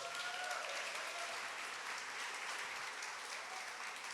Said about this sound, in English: maybe just a quick round of applause for the panel